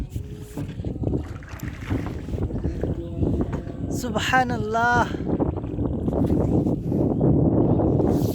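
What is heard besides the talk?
strong wind blowing in a village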